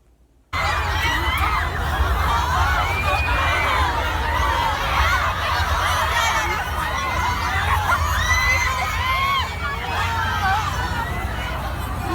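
A dense crowd of fans screams and cheers continuously at a concert in Seoul, a loud, sustained wall of high shrieks and babble after a brief silent start.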